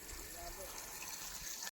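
Water gushes steadily over a dirty mesh filter from a crop sprayer outdoors on a farm, a continuous faint rushing wash that cuts off abruptly at the end, with voices faintly behind it.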